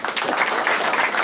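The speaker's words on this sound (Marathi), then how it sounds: "एकदा जोरदार टाळ्या वाजवा" Loud, steady applause from an audience at a Marathi stand-up comedy crowd-work show, many hands clapping together and filling the room for a short burst.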